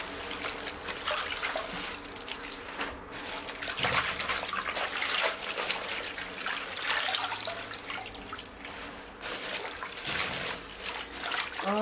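Scallions are rinsed under a running kitchen tap, a steady trickle and splash of water at close range that continues throughout without talk.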